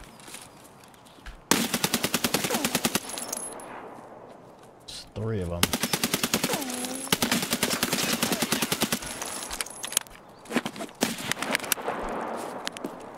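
Automatic weapons fire in Escape from Tarkov, long rapid bursts of close, loud shots with short pauses between them, and someone speaks briefly between the volleys.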